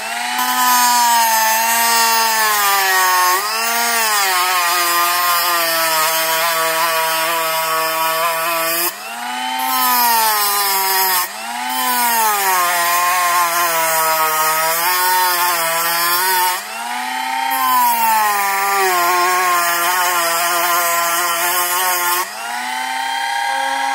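A power tool grinds steadily at the inside of a rear differential outdrive for a WRC SBX-2 RC car. The loud, whining tone shifts pitch as the bit bites and eases, with brief pauses between passes.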